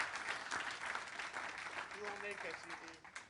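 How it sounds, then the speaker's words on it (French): An audience at a public science event gives soft, distant applause that runs evenly throughout, with a voice emerging near the end. "je vous demande d'applaudir"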